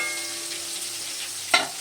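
Pointed gourd and fish frying in a pan, with a steady sizzle throughout and one brief clatter near the end as pieces are moved.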